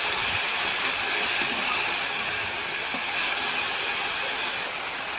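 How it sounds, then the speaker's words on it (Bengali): Fried pieces sizzle in hot oil in a wok, a steady, loud, hissing crackle that holds evenly for several seconds and fades slightly toward the end, with no talking. "তেলটা একটু নাড়াচাড়া করে ভাজাগুলো বসে দিলাম"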